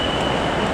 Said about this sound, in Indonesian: di bawah sana ada MRT atau LRT ya